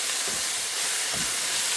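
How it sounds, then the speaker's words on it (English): Sausage and onions sizzle in a soup pot as they are stirred, a loud, dense hiss with two dull low knocks from the spoon, brief and close. "We're going to stir all the sausage in with the onions"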